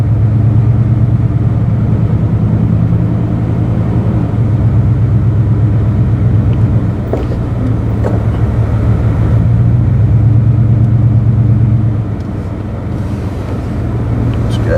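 A pickup truck's engine drones loud and steady as it creeps and maneuvers through a parking lot, with a low rumbling hum, wind buffeting and a few faint clicks, no talk.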